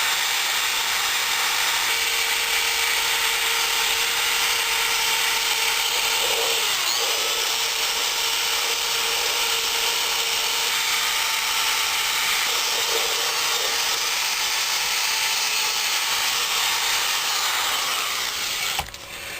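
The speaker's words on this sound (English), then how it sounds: "Get all that old gasket material off," A power tool with a wire or abrasive wheel cleans old gasket material off a cylinder head surface, a loud steady whine running the whole time with small dips in pitch, then cutting off at the end.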